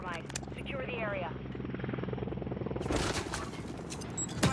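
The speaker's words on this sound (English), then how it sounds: "Override helo inbound." A helicopter in the Call of Duty video game thuds with a steady rotor chop, joined by bursts of gunfire and in-game radio chatter layered over it.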